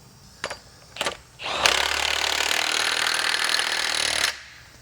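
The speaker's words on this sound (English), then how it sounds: "Then we'll take our 30 millimeter, put our pinion nut on." A 30 millimeter pinion nut being tightened on a differential: a couple of sharp metallic clicks, then a loud, continuous rattling power-tool burst that lasts about three seconds before it cuts off.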